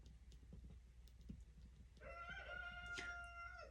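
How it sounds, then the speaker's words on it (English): A rooster crows just outside a window, one drawn-out call rising partway through after quieter background rustling, moderately near and clear. "You guys hear the rooster?"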